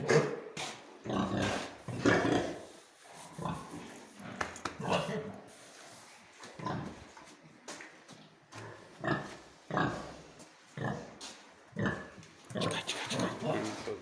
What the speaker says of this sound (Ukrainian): Ось така свинка.